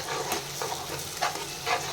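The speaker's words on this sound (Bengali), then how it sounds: "এবার এর মধ্যে দিয়ে দেবো পেঁয়াজ আর কাঁচা লঙ্কা বাটা" Onion and green chilli paste frying in ginger-garlic masala for chicken rezala, a steady close sizzle with soft periodic stirring scrapes through two seconds.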